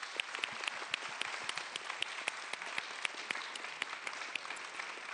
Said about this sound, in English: So if I could just have a big round of applause, please